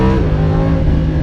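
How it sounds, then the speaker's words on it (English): Lamborghini Huracan V10 engine pulling hard in first gear on tight, twisty roads, a loud steady deep roar close by with no talk over it. "That's V10 soundtrack. This is something else."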